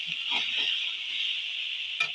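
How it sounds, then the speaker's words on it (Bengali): A carrot and potato fry sizzles steadily in a covered pan as the lid comes off, with soft stirring scrapes early on and a sharp utensil clink near the end. No one speaks. "আবারও একবার নেড়ে দেবো।"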